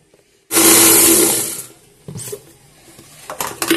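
A kitchen grinder powders edible gum for panjiri, starting abruptly with a loud whirring roar that fades after about a second, followed by a few short rattling bursts and pulses.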